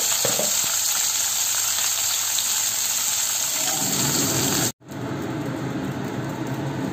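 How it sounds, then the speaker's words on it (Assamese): Puthi fish coated in salt and turmeric frying in oil makes a steady, close, crackling sizzle throughout, broken by a momentary drop to silence near the end before the sizzle resumes. "এইখিনি মোৰ মাছ ভজা হৈ গ'ল"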